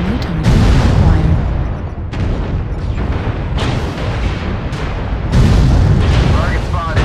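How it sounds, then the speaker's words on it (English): Heavy artillery strike explosions in a video game battle, a loud continuous rumble of booms and blasts with repeated sharp onsets, a voice speaking over the barrage at times. "Artillery strike activated."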